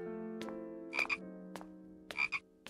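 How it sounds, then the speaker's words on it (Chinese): Several freshly caught frogs in a bamboo basket croak in repeated rasping bursts, with two louder double calls standing out over a steady low chorus. The sound is close and fairly quiet, with no talking. "你竹筐里装的是青蛙吗？"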